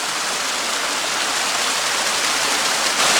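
A cold, rocky mountain stream with ice along its banks rushes near waterfalls on a Pennsylvania hiking trail, giving a steady, loud, close hiss of flowing water with no break.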